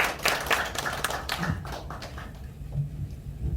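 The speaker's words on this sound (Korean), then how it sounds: "여러분 힘찬 박수로 먼저 모셔주시기 바랍니다." An audience in a lecture hall claps to welcome the chairman of the Korea Global Peace Foundation, a burst of fast clapping that thins and fades over a few seconds, with a low room murmur underneath.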